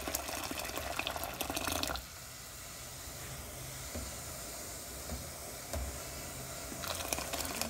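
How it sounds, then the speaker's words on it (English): Hot water pours steadily from a kettle into a saucepan for making millet bread, a hissing rush with clinks at the start and end. "because of the transfer from the kettle to the saucepan"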